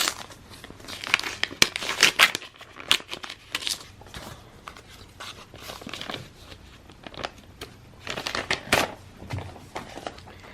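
A paper envelope being opened and torn by hand, close-up crinkling and sharp ripping bursts coming in irregular clusters, with faint background sounds between them.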